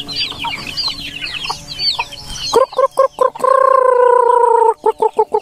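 Birds clucking and chattering, then a loud turkey gobble in sharp repeated bursts with one long sustained call, close by.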